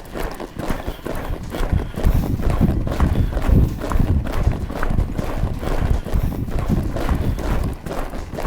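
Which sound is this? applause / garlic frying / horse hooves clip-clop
horse hooves clip-clop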